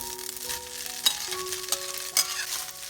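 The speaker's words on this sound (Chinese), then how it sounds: "平底锅烧热，放入约1汤匙油， 把鸡丝放进来，" Shredded chicken sizzles in about a tablespoon of hot oil in a non-stick frying pan, a steady crackling hiss broken by a few sharp pops and scrapes, close and alone.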